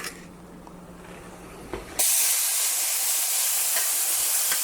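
Onions tossed into a pan of melted butter, a sudden hiss after a quiet moment that settles into a loud, steady sizzle with occasional pops, without talk.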